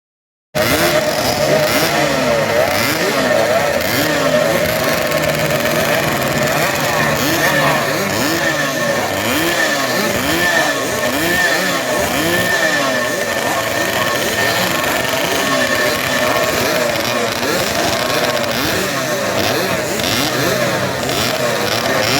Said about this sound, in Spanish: la moto en la tanda de prueba andaba fuertísimo